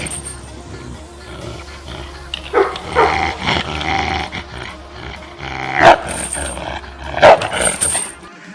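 An aggressive Anatolian Shepherd dog growls and barks in sharp bursts, with a few loud barks standing out over a continuous low rumble, close by and mixed with background noise.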